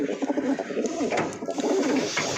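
Pigeons resting on wooden perches coo in soft, overlapping rolling phrases, close and steady throughout with no talk.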